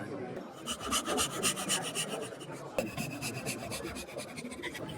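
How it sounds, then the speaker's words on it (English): A dovetail saw held against a magnetic saw guide cuts down to the line in wood, producing close, steady rasping strokes in an even back-and-forth rhythm. "with a firm grip on the guide, light grip on the saw, down to the line"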